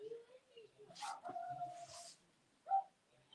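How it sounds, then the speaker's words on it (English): A dog barks a few times at middle distance during a live football watchalong, the sharp barks rising over a background of continuous talk and a distant match commentary. "What is she barking at now?"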